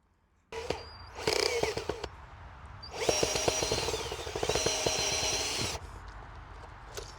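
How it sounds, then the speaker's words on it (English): Cordless power drill used for a garden and greenhouse job, whirring in bursts: a short spin, a longer stretch, then a sustained run of nearly three seconds, fairly close and loud, with no talking over it. "I have to say, Joe, there's very little more attractive in life than a man with a drill."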